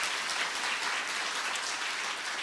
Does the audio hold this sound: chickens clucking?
no